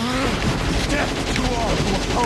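Dense continuous gunfire from a weapon in the video game Shadow the Hedgehog, rapid rattling bursts mixed with booming impacts and game music in a loud, busy sound bed.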